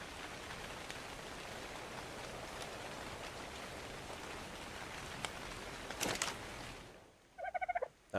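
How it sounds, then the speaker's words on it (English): Steady rain hisses in the video game Ark, falling as a dense, even wash of noise that cuts out near the end, followed by a brief burst of choppy game sounds. "That moment when it decides it's going to rain inside your home."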